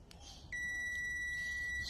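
A multimeter's continuity beeper sounds as its probes touch the pins of a Lexus RX330 oxygen sensor, a steady high electronic tone that starts abruptly and holds, fairly quiet and without speech.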